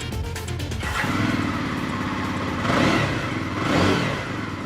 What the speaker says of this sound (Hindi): ये इसका फायरिंग एग्जॉस्ट है और जो इंजन की कैपेसिटी है 334 सीसी